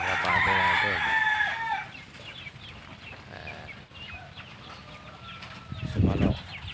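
A rooster crows loudly at the start amid clucking chickens, followed by ongoing farmyard clucks and a low rumble near the end.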